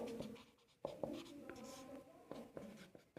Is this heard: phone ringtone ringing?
no